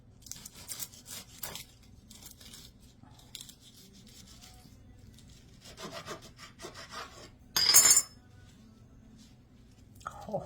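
A knife slices at an angle through crisp fried crack chicken eggroll wraps, giving soft scraping crunches that are mostly quiet, then one sharp, louder crackle near the end.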